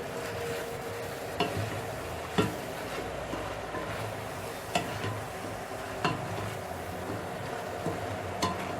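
A pan of Asian stir-fry with chili sizzles quietly and steadily, while a utensil strikes the pan in sharp, evenly spaced clacks roughly every second.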